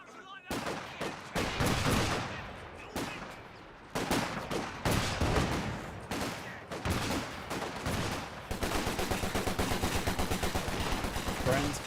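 Bursts of rifle and machine-gun fire crackle through a Company of Heroes 2 battle, with conscripts and Grenadiers exchanging shots in rapid overlapping volleys, ending in a steady rattling stream of automatic fire.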